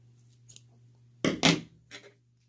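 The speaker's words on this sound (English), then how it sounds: "Then you're going to cut your yarn" Scissors snip through yarn at the end of a crochet jack-o'-lantern face, giving a few quick close crisp cuts, the strongest pair coming together midway, with no talk and a faint steady hum underneath.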